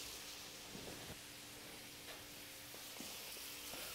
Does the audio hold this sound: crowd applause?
no